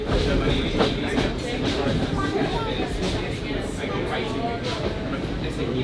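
Steady rumbling of a railway wagon rolling on a steam train at a heritage steam festival in Treignes, with faint rhythmic clatter and some chatter in the background.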